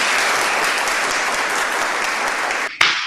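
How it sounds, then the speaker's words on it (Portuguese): Loud, dense applause from a live audience at a talk show recording, sustained clapping close up that suddenly cuts off near the end with a short bump. "Gente, palmas."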